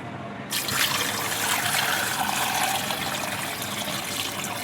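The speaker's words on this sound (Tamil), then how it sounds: "தண்ணி ஊற்றிடணும் தண்ணி பார்த்தீங்கன்னா சிக்கன் முங்குற அளவுக்கு ஊற்றணும்" Water pours steadily into a pot of chicken, a continuous close splashing and trickling stream that starts abruptly and runs on without talk.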